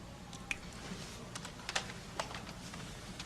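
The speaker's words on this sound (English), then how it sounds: "Just use the keyboard." Someone taps quietly on a computer keyboard in a movie scene, a light scatter of soft clicks at irregular pace under faint room noise.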